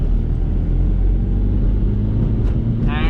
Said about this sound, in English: second gear again, full throttle